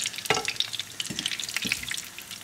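Breaded Babybel cheese rounds fry in a pan of oil with a steady crackling sizzle, a few louder pops and bubbling bursts breaking through the continuous hiss; no talking.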